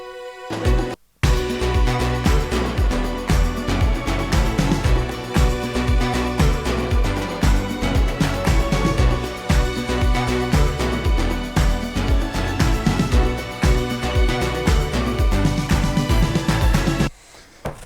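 Two string recordings stacked together in a hall with beautiful acoustics and space echo added, a full, dense, sustained ensemble texture that swells and layers, loud and continuous after a brief cut near the start, no talk.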